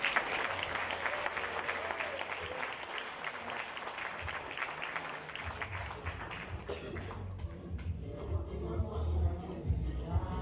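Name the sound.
audience applause at a certificate ceremony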